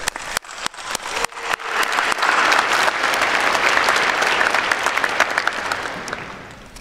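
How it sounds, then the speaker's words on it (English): A ceremony audience at a college diploma and awards event breaks into a hearty round of applause, opening with a few scattered claps that swell into sustained, dense clapping filling the hall before tapering slightly. "let's give him a hearty round of applause"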